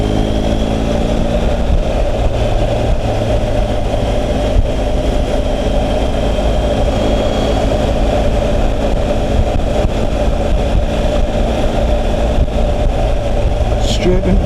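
A motorcycle being ridden at sunset, a loud constant low engine drone with wind rush, steady throughout at a near distance.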